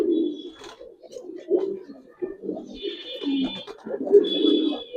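Pigeons, including a red khaki fancy pigeon, coo in low, throaty bursts close by, with faint higher chirps overhead and occasional soft voices.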